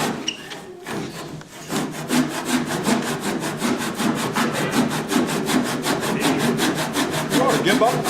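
A hand saw cuts through wood in quick, even back-and-forth strokes, close and loud, after a short pause at the start.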